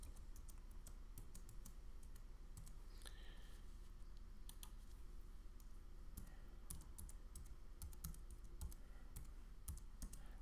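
Password being typed on a computer keyboard: quiet, irregular bursts of key clicks spread across about ten seconds, close but faint, with no talking.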